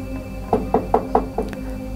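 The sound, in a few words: knocking on a wooden door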